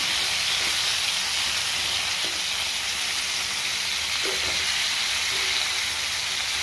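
Bitter gourd and onions frying with salt in a covered pan: a steady, loud sizzle and hiss of steam runs throughout, with a few faint clicks and stirs.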